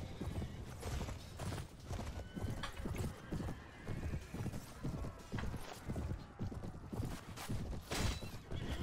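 A horse gallops in the medieval battle game Mount & Blade: Warband, with dense, rapid hoofbeats and loud whinnies over a busy combat din that runs throughout without a break.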